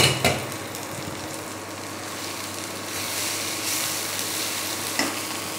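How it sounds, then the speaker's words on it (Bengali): Drumstick (moringa) leaf greens frying in a covered pan, a continuous moderate sizzle with faint scraping and a few soft knocks of utensils against the pan, no voices. "আমি চাপা দিয়ে ভাজছি।"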